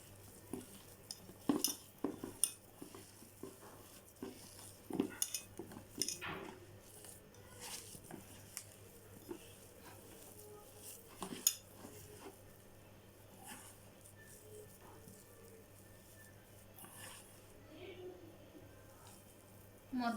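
Mashed potato and egg being stirred together in a pan while cooking, with scattered utensil clinks and soft squishy scraping, faint and intermittent, no voices.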